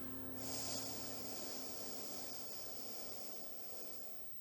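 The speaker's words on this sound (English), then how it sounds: "Inhale." One long, steady breath drawn in through the nose during a breathing exercise, a close, hissy airflow lasting several seconds before fading.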